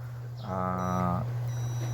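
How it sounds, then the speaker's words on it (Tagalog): A steady electronic buzzing tone from a multimeter in continuity mode, testing a Lenovo PC monitor with no power, sounds for under a second, loud and close, over a constant low hum. "pagka yan ay nag-buzzer, meaning yan ay shorted na"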